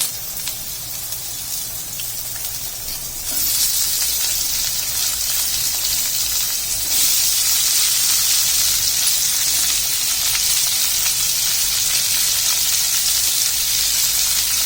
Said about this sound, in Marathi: आता आपण त्याच्यात ज्या आपण कट करून घेतलेल्या कैरीचे तुकडे आहेत ते टाकून घेणार आहे